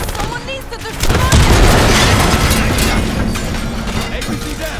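An armored personnel carrier blows up in Call of Duty: Black Ops 6: a heavy boom erupts after a second, then a long rumbling roar slowly fades under ongoing battle noise.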